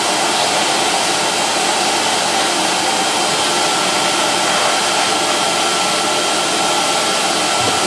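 A vintage Electrolux XII vacuum cleaner runs up close with a steady, loud whooshing roar of airflow, pulling some suction through a leaky setup, with no pauses or voices.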